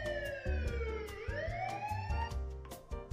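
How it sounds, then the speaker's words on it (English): A police siren sounds from a phone or speaker to trigger smart home sound recognition, a loud wailing tone sweeping down and then back up in a continuous cycle. "if we hear a police siren"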